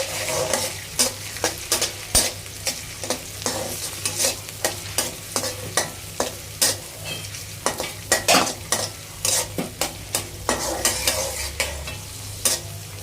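Shrimp and fish fry in a pan for seafood mixed fried rice, with steady sizzling broken by frequent sharp scrapes and clacks of a spatula stirring against the pan, close and busy throughout with no talk.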